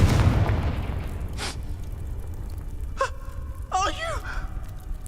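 The Confringo fire spell from Hogwarts Legacy bursting with a few short, dull booms and fiery whooshes, mixed with gasping voices and game ambience.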